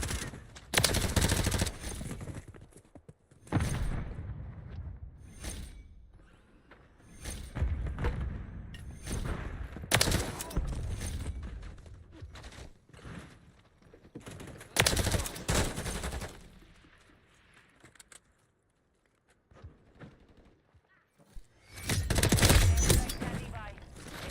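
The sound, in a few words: gunfire in a video game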